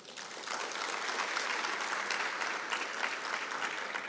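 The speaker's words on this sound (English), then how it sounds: "So can we give him a round of applause?" Steady applause from an audience, a dense continuous patter of clapping that swells slightly and holds for a few seconds.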